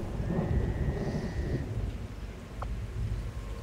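Continuous rain and deep rolling thunder in the video game XCOM 2, a steady wet hiss over a low rumble, with a faint tone briefly above it.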